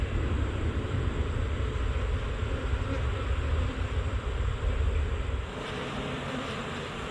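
A dense, steady buzz of many bees from a caught swarm fills the air up close, continuous throughout and easing slightly toward the end.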